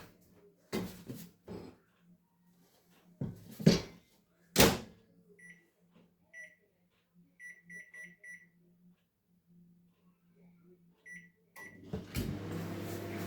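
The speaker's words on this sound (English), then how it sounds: "Take this, I'm going to put it in my microwave." A microwave oven is loaded with popcorn, with a few sharp knocks as the door shuts and then a string of short electronic beeps from the keypad, followed by the low hum of the oven starting to run.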